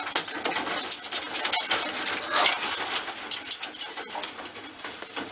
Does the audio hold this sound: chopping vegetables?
no